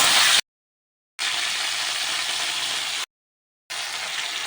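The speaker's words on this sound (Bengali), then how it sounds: "ফুলকপি দিয়ে দিচ্ছি, দিয়ে ভেজে নিচ্ছি" Cauliflower florets frying in oil in a pan give a steady, close, broadband sizzle that cuts out twice into silence and then resumes.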